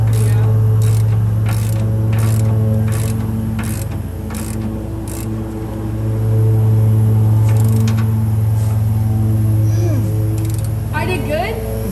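A nut is run down onto a bolt on a first-generation Toyota Tundra, a ratchet clicking in a quick regular series of strokes, close and clear over a steady engine-like hum.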